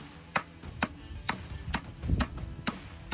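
Hammer blows knocking a driveshaft universal joint loose while the shaft rests over a vise used as an anvil, on an LS-swapped Firebird; seven sharp metallic strikes at a steady, slightly uneven pace, close and loud.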